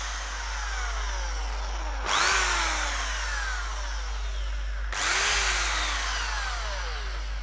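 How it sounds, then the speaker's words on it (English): A power drill with a 5mm bit whines continuously through hornbeam deadwood, with two sharp bursts as the bit bites and the motor pitch sweeps down under load. "So I'm going to drill right through it using a 5mm"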